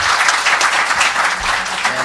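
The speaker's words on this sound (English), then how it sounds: "If we can give our panelists a round of applause" Conference audience applauding panelists, a dense, steady burst of clapping from many hands, loud and close throughout the short moment.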